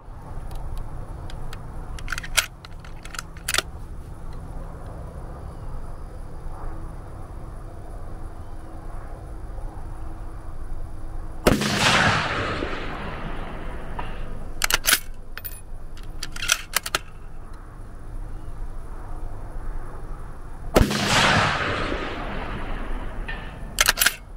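Rifle shots with different ammunition fired at a target ring out as two loud, sharp cracks about ten seconds apart, each with a rolling outdoor echo, separated by quiet handling clicks.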